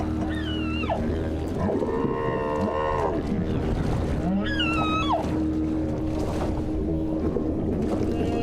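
Long moaning and rising whale calls carry through open ocean water near a boat, sweeping up and down over a steady low hum, several distinct cries spaced apart.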